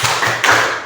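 A high school class in Indonesia does rhythmic focus clapping, producing a couple of quick, close, firm claps with no talking.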